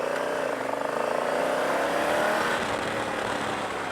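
A Honda Africa Twin DCT motorcycle pulls away from a stop, its engine note climbing steadily in pitch as it accelerates, loud and close with wind noise throughout.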